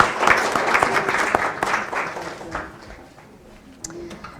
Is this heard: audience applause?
yes